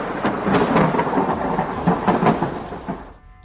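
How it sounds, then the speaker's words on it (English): Thunder roars through a storm with rain, a loud, continuous rumbling mixed with pattering rain that fades at the end. "to the deafening roar of thunder"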